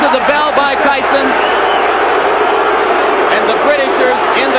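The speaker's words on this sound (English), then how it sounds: "the Britishers in the crowd react" The arena crowd at the 1989 Mike Tyson vs Frank Bruno heavyweight boxing bout roars and cheers continuously, loud and dense, with a commentator talking over the noise.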